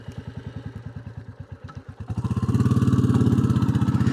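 A Royal Enfield Classic 350 single-cylinder motorcycle thumps at a slow, even idle, then revs up and pulls away, its engine note rising into a loud, steady drone as it rides off.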